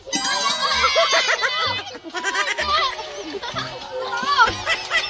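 Goats bleat repeatedly, wavering cries mixed with children's chatter and voices nearby.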